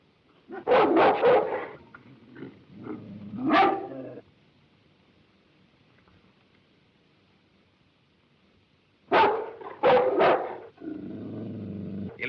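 A dog in a 1935 film barks and whimpers in two bursts, a few loud barks and whines, a long quiet gap, then another cluster of barks with fainter whimpering.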